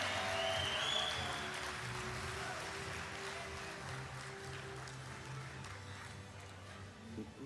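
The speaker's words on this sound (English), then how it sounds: "Please give Her Excellency, the Most Honorable Dame Cynthia Pratt, a round of applause" Guests at a national honours investiture ceremony give a soft, distant round of applause. It starts fuller and slowly thins out over a low, steady room hum.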